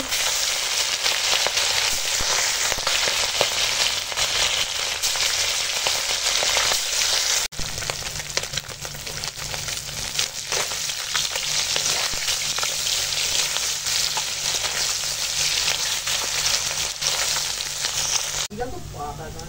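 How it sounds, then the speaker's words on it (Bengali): Small puti fish sizzle and crackle in hot oil in a home kitchen, a loud continuous frying hiss lasting the whole stretch, with occasional clatter of stirring and no talking. "তেল গরম হয়ে গেছে, এখন পুঁটি মাছ ভাজি।"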